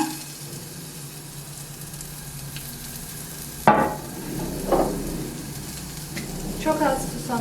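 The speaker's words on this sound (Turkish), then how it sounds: "Önce kabaklarımı soteliyorum. Havuçlarımı atıyorum." Zucchini and carrots sauté in an oiled pan with a steady close sizzle, brief stirring clatters and utensil scrapes breaking through midway and near the end.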